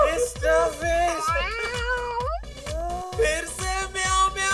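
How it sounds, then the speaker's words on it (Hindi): A cat meows repeatedly in a sliding, wavering series of cries, loud and close over rhythmic thumping music. "फिर से म्याऊं म्याऊं किया।"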